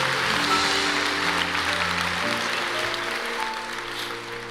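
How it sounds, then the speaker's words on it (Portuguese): A church congregation applauds as a soft, continuous wash under sustained organ or keyboard chords, with the music holding throughout. "Aleluia, aplauda ao Senhor."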